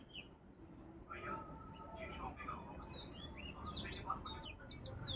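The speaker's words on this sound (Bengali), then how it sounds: "পাখির আওয়াজ দিচ্ছে কিন্তু দেখা যায় না" Small birds hidden inside a tree give quick, thin chirps and short tweets, scattered and moderately distant over a low background rumble, with faint voices in the background.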